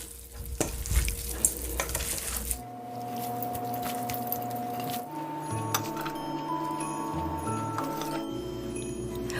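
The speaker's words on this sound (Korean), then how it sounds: "휘휘 젖어서 섞어주고 요거를 탈탈 털어서 양념장에 고루 묻혀주세요" Foraged pungnyeoncho namul greens are tossed and worked into a seasoning sauce, giving wet squishing and rustling up close over a faint steady background hum.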